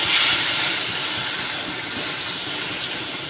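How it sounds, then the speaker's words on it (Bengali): Water poured into a pan of spiced potatoes frying in oil, a loud steady hiss and sizzle that settles into an even bubbling simmer. "পরিমাণ মতন জল দিয়ে দিই"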